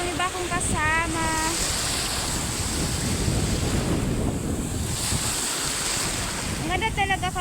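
Strong ocean waves breaking on a beach, a loud continuous roar of surf mixed with wind buffeting the microphone, with brief voices in the background.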